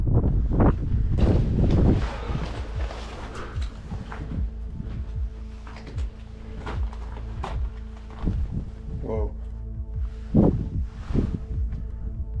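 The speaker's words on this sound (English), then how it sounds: "There's a lot of wind here." Strong wind buffets the microphone at an old quarry, roaring in gusts with a loud burst at the start and further bursts throughout, alone with no talking.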